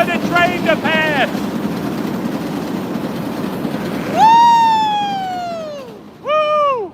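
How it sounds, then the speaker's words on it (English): A train rumbles steadily past in Jackson Heights, Queens, and long, loud horn blasts sound near the end over the ongoing roar. "Wait for the train to pass."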